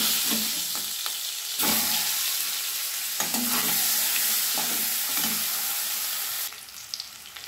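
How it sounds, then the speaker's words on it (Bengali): Eggs fry in hot oil in a wok with a loud, continuous sizzle, joined by bursts of scraping and stirring, and the hiss drops off sharply near the end. "এবারে কড়াইয়ে তেল গরম করে নিয়েছি, ডিমগুলো একটু ভেজে নেব।"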